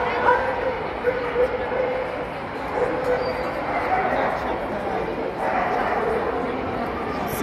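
Gordon setters and other dogs at the Crufts dog show, with scattered barks and yips over a loud, busy hall crowd; people talk nearby throughout.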